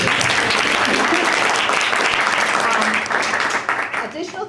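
Audience at a gallery exhibition event claps loudly in a sustained burst of applause that tapers off toward the end.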